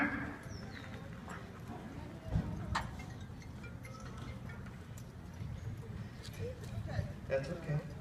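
Horses' hooves clop on the ground at a horse adoption auction, irregular steps under near-constant auctioneer chatter and crowd voices.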